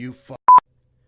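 A telephone lets out a brief electronic beep-like tone, two short bursts right after a voice during a podcast recording.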